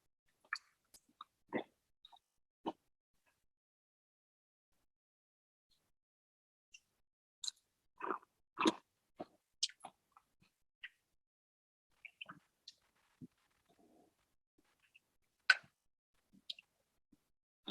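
Crispy grasshopper chips being chewed, faint, sparse crunches and clicks scattered through long quiet gaps, with a denser cluster midway.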